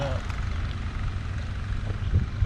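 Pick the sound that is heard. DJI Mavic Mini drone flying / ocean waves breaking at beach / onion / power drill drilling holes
DJI Mavic Mini drone flying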